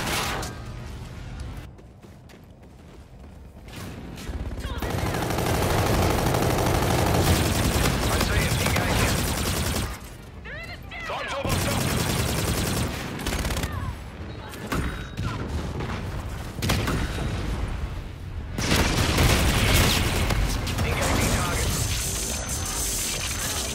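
Heavy gun-run fire from an air strike in Call of Duty: Infinite Warfare, with dense bursts of rapid shots and booming impacts in loud waves separated by brief lulls, radio voices talking over the din.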